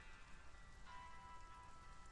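Faint, steady rain falling on a surface, a soft continuous patter with no other sounds standing out.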